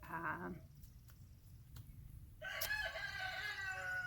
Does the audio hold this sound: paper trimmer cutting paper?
no